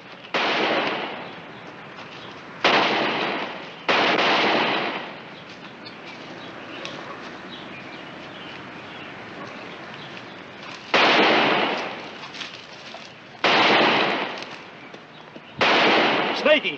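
Real bullets fired in an old TV western: five loud, roughly second-long bursts of gunfire spaced irregularly, with voices talking in the lulls between them.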